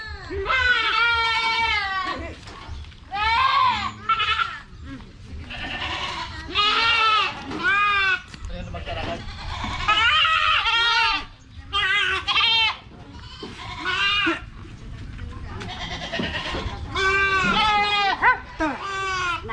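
Goats bought at a rice-farming homestead bleat repeatedly and loudly, wavering cries coming one after another at close range for the whole stretch.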